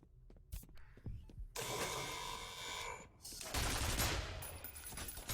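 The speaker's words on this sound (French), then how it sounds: "Et cette tourelle là qu'on se prend de plein fouet, qui fait des gros dégâts." An automated turret in the first-person shooter F.E.A.R. fires at the player in rapid bursts, sharp clattering volleys broken by short pauses, loud and close, with soft gameplay noise between.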